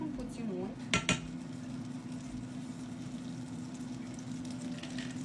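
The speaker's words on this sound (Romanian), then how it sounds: "În tigaia mea pe care o am aici la încins, pun puțin unt" Butter melts in a heated frying pan under a soft, steady sizzle. A couple of metallic clinks of a utensil against the pan come early on.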